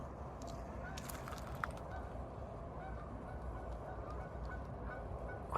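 Geese and other waterfowl honk and call far off across the middle of a winter lake, a constant distant chorus over steady wind-like rumble, with a few sharper calls breaking through.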